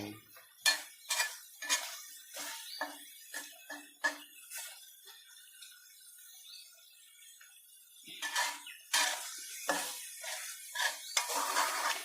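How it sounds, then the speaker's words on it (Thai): Vegetarian fish balls stir-fry in a pan at home, a metal spatula scraping and clinking against the pan in irregular bursts over a soft sizzle, with a brief lull midway and no talking. "ผัดให้ลูกชิ้นมันสุก สักแป๊บหนึ่ง"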